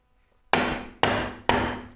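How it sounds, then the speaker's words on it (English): Three hard hammer blows strike wood while working a Moxon vise, each a sharp loud crack with a short decaying ring, evenly spaced about half a second apart, close and alone without talk. "But then again, I was hammering,"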